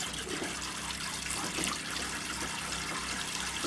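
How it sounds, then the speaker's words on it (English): Water from a pump pours and trickles steadily through an off-grid, propane-heated shower, a continuous rushing flow with a faint low mechanical hum beneath it and no voices. "water will come from the pump in here around these coils"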